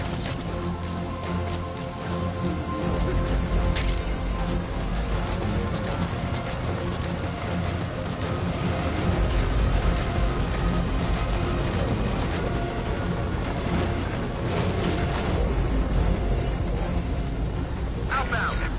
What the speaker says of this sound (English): Now get in the chopper.